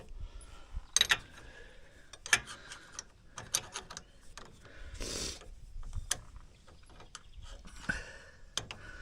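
Tightening spring bolts on a Polaris Ranger 570 SP Premium UTV during a Trail Rider 570 spring mod: sparse metallic clicks and ratchet-like ticks, some sharp and close, with scraping handling noises between them.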